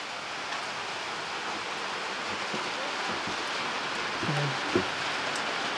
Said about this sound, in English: the rain's coming down a bit harder